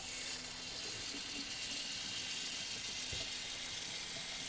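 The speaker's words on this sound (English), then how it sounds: "Oh, shower's on." A shower runs steadily in a chalet bathroom with a big bath, the water spray giving a constant broadband hiss with no break and no voices.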